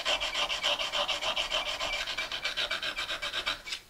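A trimming tool blade is drawn across a sharpening stone in quick, even back-and-forth strokes. The rasping scrape is close and rhythmic, with roughly a dozen strokes in a few seconds.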